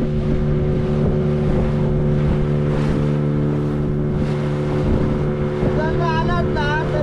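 Boats on the sea at Devbag on the Konkan coast in the evening, with a steady low engine drone and wind rumble throughout, and faint chirping at the end.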